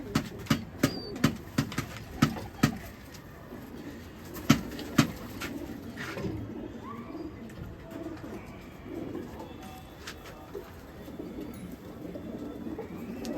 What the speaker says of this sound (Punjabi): ਆ ਲੋ ਜੀ ਬੋਲਣ ਲੱਗ ਗਿਆ ਜੀ ਜੀਰਾ ਕਬੂਤਰ ਵੀ